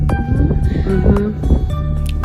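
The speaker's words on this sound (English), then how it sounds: "it's very windy and my hair's knotted" Strong wind outdoors at a Cornish cave site, buffeting the microphone with loud low rumbles and gusty thumps throughout a brief stretch, with no voices.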